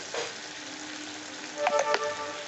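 Mustard paste and green chillies frying in a pan for a vegetarian pointed gourd dish, with a soft, quiet sizzle and a few brief scrapes of a stirring utensil.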